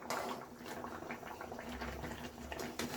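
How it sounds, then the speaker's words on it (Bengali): Chana dal stirred as it fries in a pan, giving a steady close sizzle and bubbling with soft scraping, the frying texture holding evenly throughout. "আমি এবার এইভাবে আস্তে করে এইভাবে নাড়িয়ে নিচ্ছি।"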